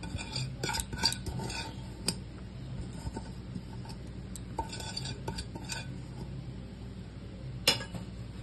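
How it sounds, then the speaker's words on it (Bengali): Marinated prawns being stirred in a pan with mustard oil, heard as scattered clinks and scrapes of a utensil against the pan over a faint background, with a louder knock near the end. "এবার চিংড়ি মাছটা, মাখানো চিংড়ি মাছটা দিয়ে দেবো"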